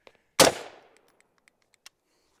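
A single loud, sharp rifle shot from a PSA Sabre 15 cracks close by and rings out briefly, followed by faint tinkling of falling brass.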